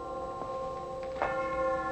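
The Old Main college bell rings out, two sustained metallic strikes with a long shimmering decay, the second louder than the first.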